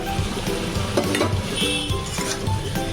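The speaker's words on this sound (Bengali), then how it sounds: "এইবারে আমি এর মধ্যে অ্যাড করে দিচ্ছি পটলটা" Pointed gourd tossed into a pan of frying fish curry, giving a steady sizzle with stirring scrapes and clatter throughout, close and moderately loud.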